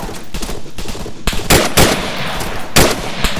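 Heavy gunfire in Arma 3 during a co-op assault on a castle: dense, sharp bursts of rifle and machine-gun fire, with several louder nearby shots cracking over a constant background of distant shooting.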